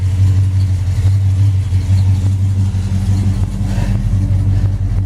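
A Plymouth Duster with newly fitted headers and exhaust rumbles loudly and steadily up close, a deep continuous engine drone with mild fluctuations, no voices over it.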